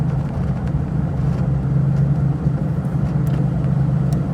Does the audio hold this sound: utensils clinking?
no